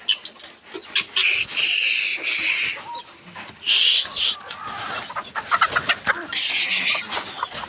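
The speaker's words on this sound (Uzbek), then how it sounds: "Mana sesarkalarga oq tovuqlardan olib kelib qo'shib qo'ydik." White chickens clucking loudly and continuously among guinea fowl in a poultry yard, with overlapping harsh calls and bursts of squawking close by.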